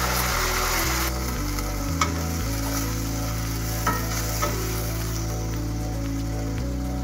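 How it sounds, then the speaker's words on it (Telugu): Carrot and potato pieces and finely chopped spinach fry in a pan with a constant close sizzle, broken by a few scraping stirs and small clicks, and nobody talks over it. "క్యారెట్ ముక్కలు, అలాగే పొటాటో ముక్కలు, సన్నగా తరిగి పెట్టుకున్న పాలకూర కట్ట కూడా వేసేద్దాము"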